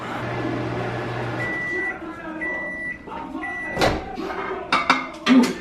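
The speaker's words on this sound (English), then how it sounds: "microwave it after you punctured holes into it" A microwave hums steadily while heating a punctured potato, then beeps several times, followed by clicks and a door thump.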